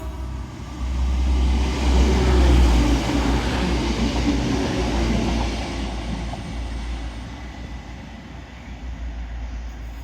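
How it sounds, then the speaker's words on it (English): A Transpennine Express class 185 diesel unit runs through Stalybridge station without stopping, a loud sustained rumble of engine and wheels swelling close by, then easing slowly as the train carries on. "Now passing through is going to be another Transpennine Express 185."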